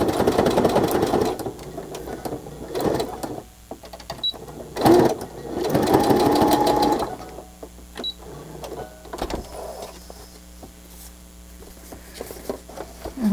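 A sewing machine stitches pockets through layers of paper pattern, running in fast mechanical bursts with pauses between, close and fairly loud, with no talk.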